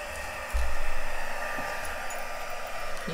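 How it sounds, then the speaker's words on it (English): A blow dryer runs in a craft room to dry alcohol ink on vellum, with a steady whooshing roar that starts and then holds level and fairly close throughout. "I am going to get my blow dryer."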